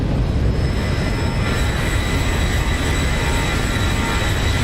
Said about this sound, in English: Whoa! Listen to those engines.